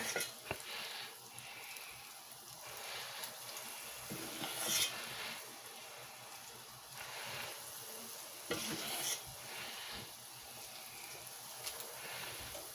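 Balls of glutinous sweet-rice mochi dough sizzle and crackle steadily in hot frying oil, with occasional louder bursts as more are added or stirred; no one speaks.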